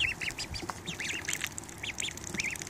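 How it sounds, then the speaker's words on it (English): Four ducks quack repeatedly at close range, bursts of nasal calls overlapping one another over a low rustling background, with no talking. "there's four ducks"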